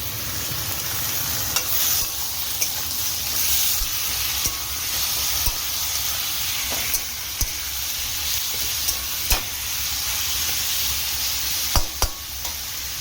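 Onion paste sizzles and fries steadily in a pan, with intermittent clicks and scrapes of stirring scattered over a constant broadband hiss, fairly close and with no voices.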